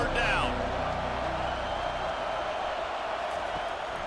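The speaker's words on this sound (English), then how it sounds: "Decibels rising as the crowd gets behind this defense on 3rd down" Stadium crowd in EA Sports College Football 25, Notre Dame vs Louisville, roaring behind the defense on a third down: a dense, steady wall of crowd noise held for the whole stretch, with a brief voice near the start.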